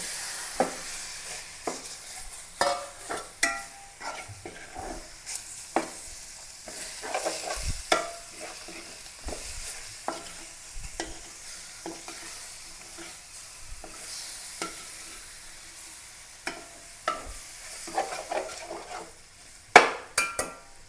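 Chicken frying in a pan with steady sizzle while a utensil stirs and scrapes in irregular bursts, with occasional sharper clinks against the pan, close and alone without voices.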